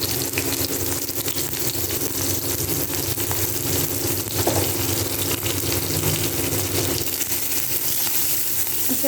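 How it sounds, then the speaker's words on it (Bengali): Chili and garlic tempering sizzles steadily in hot oil while cooking greens for a data potol fish curry, a dense, loud frying hiss that continues unbroken throughout. "এই জন্য তেলের মধ্যে দিলাম আমি লঙ্কা আর রসুন ফোড়ন।"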